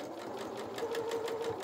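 A sewing machine stitches the bodice of a doll's sailor dress, its needle chattering in a quick, even rhythm close by, alone without talk.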